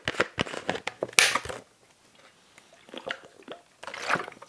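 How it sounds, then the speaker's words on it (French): A person takes a small sip of water, with close wet swallows, lip smacks and squishy mouth sounds, a brief quiet pause, then more gulping, heard alone without talk. "je bois un petit coup d'eau"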